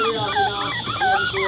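A puppy whimpers and whines in a continuous high, thin stream of cries, fairly close and steady, while faint voices murmur underneath.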